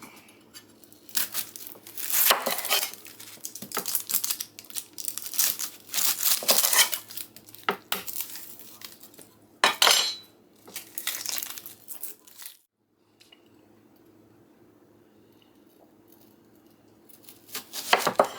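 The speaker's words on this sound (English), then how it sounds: "What I have here is 3 pounds of Vidalia onions, and I'm just going to slice these up." A knife slices through three pounds of Vidalia onions on a cutting board, giving crisp, close crunching and crackling cuts in irregular bursts, with a quiet pause near the end before the cutting resumes.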